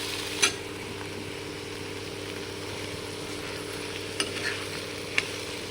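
Bottle gourd seeds fry in a pan under a steady, close sizzle while being stirred, with a few sharp utensil clicks against the pan near the start and end.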